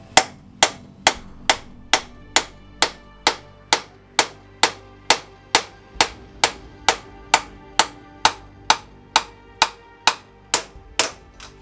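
A wheel bearing race is hammered into place with steady, evenly spaced metallic blows, about two per second and more than twenty in a row, each one sharp, loud and ringing briefly.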